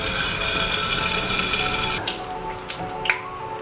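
Food fries in a pan at home with a dense, steady hiss and crackle, fairly quiet and continuous, with a few brief pops and clatters near the end.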